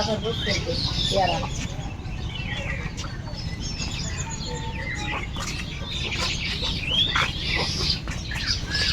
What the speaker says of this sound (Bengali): ওই যে হাঁস মুরগি